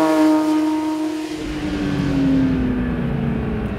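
Porsche 911 GT3 engine accelerating hard on a wet track on semi-slick tires, a loud close revving whine climbing in pitch, then dipping briefly as it shifts and pulling again.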